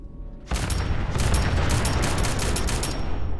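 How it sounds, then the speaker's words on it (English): Sustained gunfire and explosions from the video game Fallout 4, a dense continuous barrage of shots and booms starting abruptly and staying loud throughout. "Okay, big explosions."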